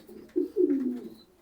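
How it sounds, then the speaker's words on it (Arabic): Pigeons from Kuwait give a short, low cooing phrase, close and clear against a quiet background. "ده الحمام وارد الكويت يا جماعه العادي خالص اهو."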